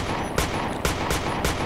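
Gunfire from the video game Point Blank during a competitive team match, heard as a steady bed of rapid shots with several sharp, louder bursts recurring roughly every half second, with no talking.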